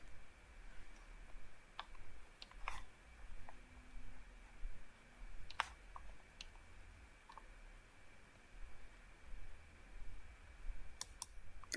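Faint, sparse clicks of a computer mouse while drawing in CAD software, single and double clicks scattered at irregular intervals over a quiet room hum.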